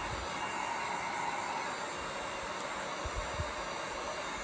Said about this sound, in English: the heat gun is getting a lot of the crinkles out